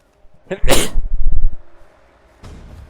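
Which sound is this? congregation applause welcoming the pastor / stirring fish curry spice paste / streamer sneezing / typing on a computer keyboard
streamer sneezing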